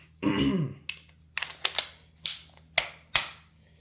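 Magazine slapped into a handgun, giving a series of sharp metallic clacks and knocks, roughly six distinct hits spaced about half a second apart, close and fairly loud with brief rustle between them.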